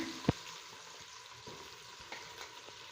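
Two large onions, sliced into long strips, sizzle in a pan with fennel, a steady quiet frying hiss broken by a sharp utensil knock near the start and a few faint stirring clicks.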